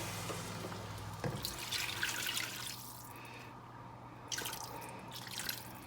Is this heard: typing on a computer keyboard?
no